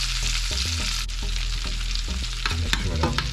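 Garlic sizzles in melted butter in a pan alongside salmon, a close, steady frying hiss with small crackles and a few light clicks, no talking.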